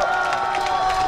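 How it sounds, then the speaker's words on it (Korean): At an outdoor strawberry festival stage in Miryang's Samnangjin, a crowd cheers and shouts with some clapping after a singer's special performance, a brief, loud, sustained roar of voices. "다시 한번 더 박수 크게 보내주세요"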